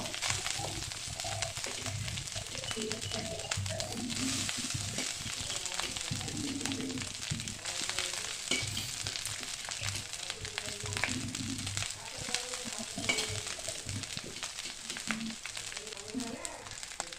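Cooked rice being stirred and fried with onion, turmeric and fried peanuts for lemon rice, a steady broadband sizzle with soft scraping stirs throughout, fairly close.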